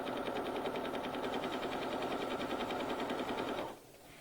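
A sewing machine runs a fast, even stitch around a fabric edge on a wide zigzag mock serger setting, a loud steady mechanical whir that stops abruptly near the end, leaving quiet room tone.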